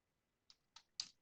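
Three crisp, close keystrokes on a computer keyboard, spaced evenly and growing slightly louder, against near silence while a web address is typed.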